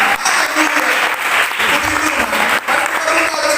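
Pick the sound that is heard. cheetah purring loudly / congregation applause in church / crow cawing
congregation applause in church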